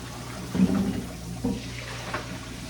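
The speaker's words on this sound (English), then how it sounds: "I guess I should fill up the sink and put some Clorox in there." Tap water runs into a kitchen sink being filled for a Clorox soak, a steady close splashing rush with small surges, no talking.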